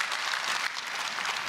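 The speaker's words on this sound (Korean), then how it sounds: "우리 아버지께 영광의 박수 올려드립시다" A church congregation applauds together, dense steady clapping that fills the room and holds at an even level from start to finish.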